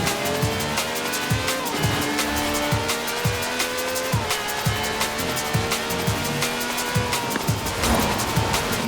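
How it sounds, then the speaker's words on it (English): A V12 car with over 750 horsepower drifts in the Forza Horizon 4 video game, its engine droning loudly and steadily while the tires squeal and skid, with rhythmic gear or rev shifts repeating through the run. "Holding adrift is a delicate balance of throttle, steering, and shouting."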